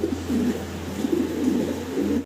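A large fancy Mundian pigeon coos close by in a series of low, rolling, throaty coos that repeat through the short stretch.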